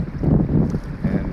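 Wind gusting by the Potomac River on a warm morning, a steady low rumble of wind buffeting the microphone with choppy water beneath, continuous and fairly loud, no voices.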